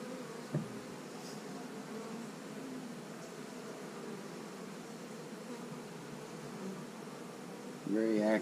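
A soft, steady hum of many bees buzzing continuously around a hive, with a brief voice near the end.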